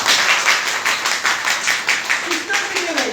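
A training-program audience clapping loudly in fast, rhythmic unison, sharp repeated claps filling the room, with a voice briefly heard near the end.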